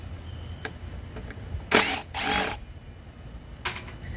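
A tool removes the middle bolt from the magneto case of an Echo 580t backpack blower, heard as two short, loud buzzing bursts close by, with faint clicks and handling noise before and after.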